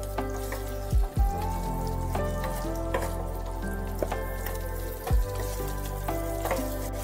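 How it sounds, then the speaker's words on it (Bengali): Chopped ginger and green chilli frying in a pan for masala pumpkin, with a steady close sizzle and a few louder scraping stirs of a spoon against the pan, no voices. "কুচিয়ে রাখা একটু আদা আর কাঁচা লঙ্কা। একটু নাড়িয়ে চাড়িয়ে নিতে হবে।"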